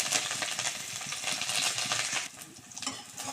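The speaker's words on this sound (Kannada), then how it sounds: "ಸ್ವಲ್ಪ ಎಣ್ಣೆ ಹಾಕಿ ಸಾಸಿವೆ ಒಗ್ಗರಣೆಗೆ ಹಾಕ್ಬಿಟ್ಟು" A tempering sizzles in a pan: curry leaves, mustard seeds, garlic and onion crackle in hot oil, with soft scraping from stirring and a dense, steady hiss that eases slightly toward the end.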